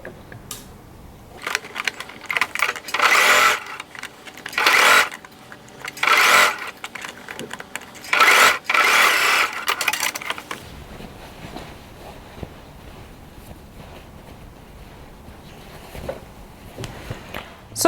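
A sewing machine stitches a shawl collar close to the stitch line in several loud bursts of rapid stitching with short pauses between them, then goes quiet for the last several seconds.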